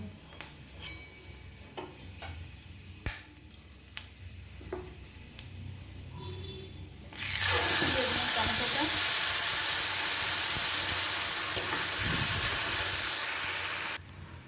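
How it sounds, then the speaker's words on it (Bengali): Chopped tomato tipped into hot oil in a wok with fried tempering spices for a date and mango-leather tomato chutney bursts into a loud, steady sizzle and hiss that lasts several seconds. Before it come quiet kitchen ticks and light stirring knocks. "টমেটোটাকে দিয়ে আমি ভালো করে নাড়াচাড়া করে নিলাম"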